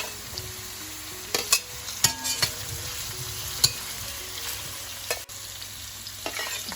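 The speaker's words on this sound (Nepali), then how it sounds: "अब यो ग्रीन क्याप्सिकम हाल्दैछु।" Carrot and green capsicum frying in a pan, a steady sizzle broken by sharp scrapes and clacks of stirring at irregular intervals, close and clear with no talking.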